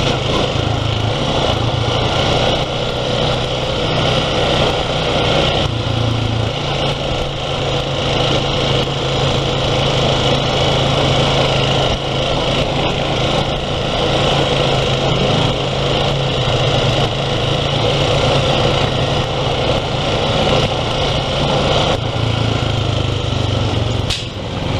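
Four-wheeler ATV engine on a dusty forest trail, a continuous loud droning motor with slight throttle changes, close and steady for the full stretch.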